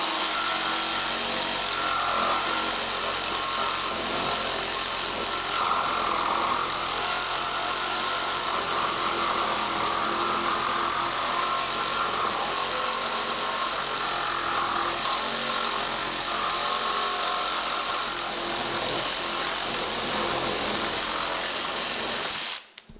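A DeWalt 20V Atomic cordless reciprocating saw cuts through nail-embedded wood and black iron pipe, its harsh buzzing stroke running loud and continuous for over twenty seconds before cutting off abruptly.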